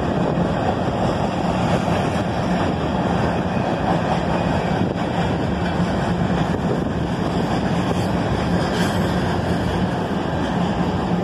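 A long, large Norfolk Southern freight train with auto racks mixed in rumbles past close by in a steady, continuous roar, with wind buffeting the microphone.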